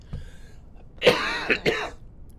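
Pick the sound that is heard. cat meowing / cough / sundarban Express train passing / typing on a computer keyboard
cough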